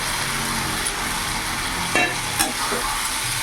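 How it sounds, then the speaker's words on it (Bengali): Fried potatoes and cauliflower being stirred into a hot, sizzling spice masala in a pan, a steady close frying hiss with a couple of brief clatters of the spoon, no talking. "এবার ভেজে রাখা আলু ফুলকপিগুলো দিয়ে দেবো"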